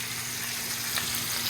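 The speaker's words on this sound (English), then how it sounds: "Shrimp are hitting the pan." Shrimp sizzle in a frying pan, a brief steady crackling hiss at moderate level with no talk.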